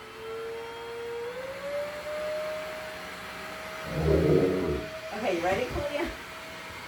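A vacuum cleaner runs while grooming a reluctant giant dog, a steady motor whine that drops slightly in pitch early on and holds, with brief bursts of brushing and handling noise and people talking near the end.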